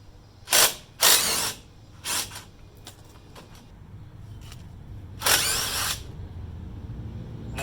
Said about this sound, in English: I'm going to take my 18 millimeter and break loose these fasteners on the back.